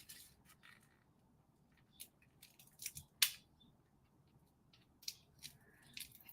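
Scissors snip open a plastic package of ribbon trim for cardmaking, a series of short sharp close cuts and crinkles with quiet gaps between them.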